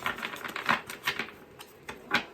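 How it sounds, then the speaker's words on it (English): A deck of cards being shuffled by hand gives rapid, uneven bursts of crisp clicking and flapping, close and moderately quiet, with no talking. "This one's kind of hard to shuffle"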